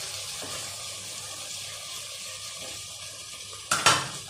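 Chickpeas are sautéed in a masala mixture in a pan for chole masala, a soft steady sizzle under stirring, ending with a brief clatter of a utensil against the pan.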